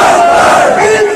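Large crowd roaring a chanted slogan response at a political rally about Kashmir, a short, loud, sustained massed shout with no clear break.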